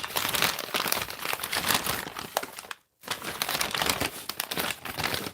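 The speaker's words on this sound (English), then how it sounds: "We'll unwrap it a little bit." Gift package from Denmark being unwrapped, with loud, continuous paper crumpling and crinkling close up, broken by a brief pause midway.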